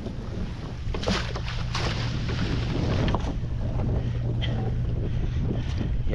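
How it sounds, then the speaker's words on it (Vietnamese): Strong gusting wind buffets the microphone at a raft fishing village at sea, a loud continuous roar with water sloshing and a steady low engine hum underneath. "Gió quá trời gió luôn, kéo cực quá."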